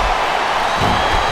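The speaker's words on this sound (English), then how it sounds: "It sounds like this capacity crowd has something on their minds, Taz." A large arena crowd in the video game WWE SmackDown vs. Raw 2007 roars steadily with broad cheering and whooping, dense and continuous throughout with no clear individual voices.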